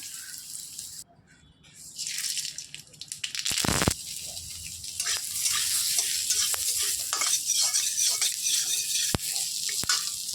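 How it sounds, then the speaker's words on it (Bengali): Bitter gourd (karela) fries in a pan with a loud, steady hiss that swells after a quieter start. Sharp crackles and a few scraping stirs come through close by, with no talk. "ঠিক করলা ভাজা করলা ভাজাটা আমার হয়ে যাবে"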